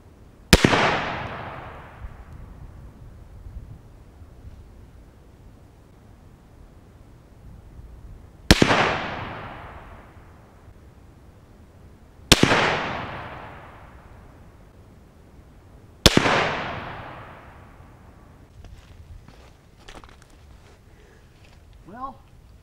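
.308 rifle rounds strike a ceramic body armor plate outdoors in four loud, sharp cracks spaced several seconds apart, each followed by a long decaying echo, with faint voices after the final shot.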